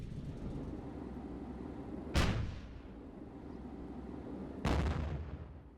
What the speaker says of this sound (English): We've still got the guns in the valley firing at them